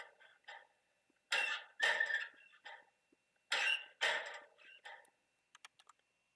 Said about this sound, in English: If you fast leave or fast enter the locker, it will make more noise than usual.